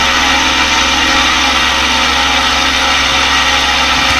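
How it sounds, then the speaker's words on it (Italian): Aeroprakt A-22 light aircraft engine running at the airfield taxiway, a loud, steady broadband drone with a strong low hum that holds continuously without talk. "diamo motore."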